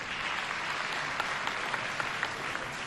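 An audience at an official launch ceremony applauds in a soft, continuous patter heard from some distance, with a few sharper claps poking out of the steady wash.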